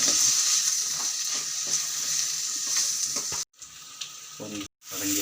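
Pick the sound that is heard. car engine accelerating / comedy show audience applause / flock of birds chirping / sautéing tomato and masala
sautéing tomato and masala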